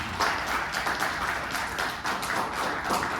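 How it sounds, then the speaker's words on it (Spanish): Audience applause at a talk on 200 years of Jalisco: a short, dense burst of many people clapping at an even, fairly loud level with no speech over it. "les pido un fuerte aplauso para Nacho Medina"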